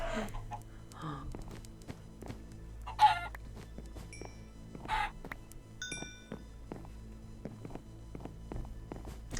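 Minecraft chicken clucking in the game, a few scattered clucks heard among footsteps and other game noises over a low steady hum.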